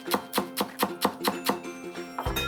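A sharp, lightweight kitchen knife chops green onions on a cutting board in a steady, even rhythm of about ten crisp strokes, close and clear, ending with a brief scrape.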